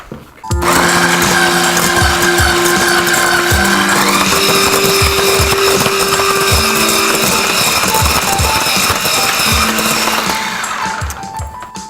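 An electric mixer beating an egg into red velvet cake batter, a steady loud mechanical whir with rhythmic rattling and a pitch shift partway through, close and continuous, then winding down.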